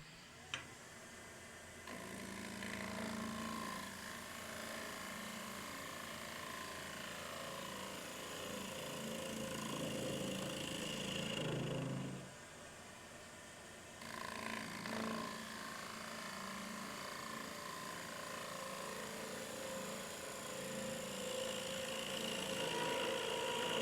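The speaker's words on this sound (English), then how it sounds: "the lathe is actually running" A wood lathe spins a bowl blank while a gouge cuts the bowl, giving a steady droning hum that drops away briefly in the middle and then resumes at a constant level.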